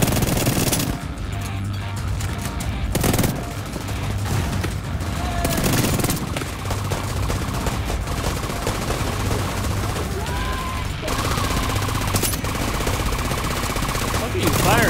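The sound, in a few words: gunfire in video game The Division 2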